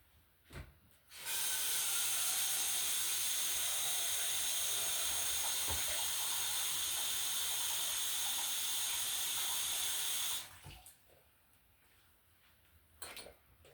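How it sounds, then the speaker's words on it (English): Tap water pours steadily into a small cooking pot for carrots, a loud continuous hiss and splash lasting about nine seconds before cutting off, with quieter kitchen clatter on either side. "Okay, so I've got some water in my pot here."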